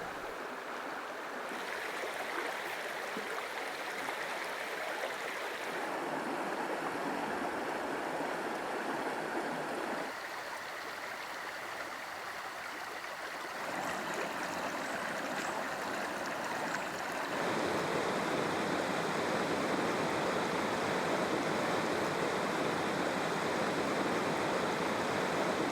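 Schafer Creek, a small stream in the Middle Fork Flathead River area of Montana, rushes and burbles steadily close by, a continuous broad wash of moving water that grows louder in stages.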